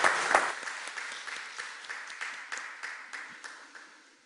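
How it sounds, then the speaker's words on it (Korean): A church congregation applauds at a Sunday worship service, a steady patter of many hands clapping that starts loud and gradually fades over about four seconds, with no voices over it. "하나님께 영광과 박수 올려드리겠습니다."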